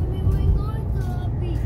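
A car driving along a road on a hot summer day in Italy, heading to the beach at Grado. A steady low rumble of engine and road noise continues throughout, heard from inside the car.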